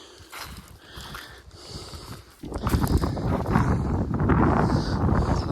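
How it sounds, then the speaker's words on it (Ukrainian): Gusty wind buffets the microphone outdoors in a sunflower field at harvest, a low rushing roar that grows noticeably stronger and steadier partway through. "задрав цей вітер вже"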